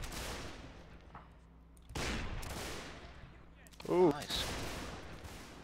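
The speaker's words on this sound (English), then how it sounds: "we're taking fire from everywhere" Gunfire in the Federal Fighting Force North & South mod: three distant musket volleys roll out at intervals with long decaying tails, fairly faint, and a voice briefly exclaims near the third.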